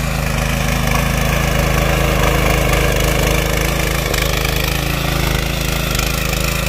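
A tractor engine runs steadily in a field during rice sowing in the Konkan, a loud, continuous, droning mechanical rumble that holds constant throughout, with no voices.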